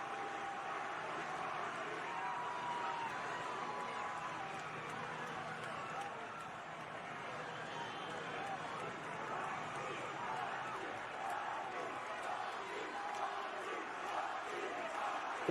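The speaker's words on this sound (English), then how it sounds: "Crowd is losing it." A wrestling arena crowd roars continuously through a SmackDown event, a dense, sustained wash of cheering heard faintly at a distance beneath a streamer's voice talking over it.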